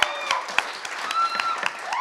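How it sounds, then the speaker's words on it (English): Wedding guests at a reception give a brief, sparse round of applause for the MCs. Scattered hand claps sound moderately close, over a quiet murmur. "I just want to give a quick round of applause for my sisters for taking over the duty of wedding"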